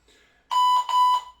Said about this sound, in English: we're going to wait for this timer to come in